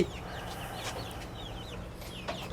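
Chickens on a rooftop farm in the middle of the city, clucking and chirping in short scattered calls over a low steady background, with no talk.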